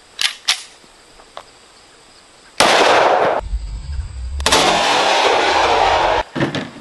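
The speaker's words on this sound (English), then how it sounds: "10 millimeter out of my favorite 10 millimeter gun I've ever shot. The Rock Island Armory TAC Ultra Double Stack." A 10mm Rock Island Armory TAC Ultra Double Stack pistol fires outdoors, giving loud sharp reports with long echoing decay, a couple of fainter pops early and another burst near the end.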